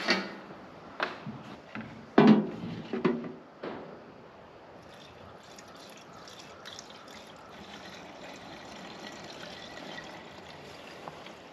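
A few knocks and clunks at first, then a soft, steady trickle of water poured into a backpack fogger tank, running continuously, fairly quiet and close.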